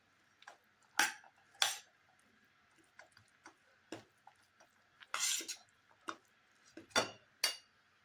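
A spoon stirring pizza topping with mayonnaise and black pepper in a bowl, producing irregular close clinks and scrapes against the dish, with no talk.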